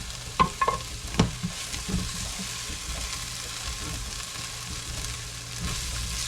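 Onions fry in hot oil in a pot with a steady, close sizzle, broken early on by a few sharp clatters as they are stirred and moved around.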